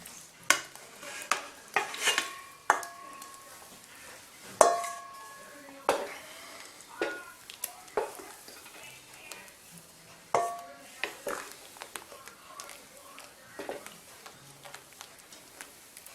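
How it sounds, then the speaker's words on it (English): A spoon stirs shredded chicken into Greek avgolemono egg-lemon soup in a pot, giving a run of clear, close clinks and scrapes against the metal sides at an uneven pace, with speech now and then. "We're going to stir that into our soup."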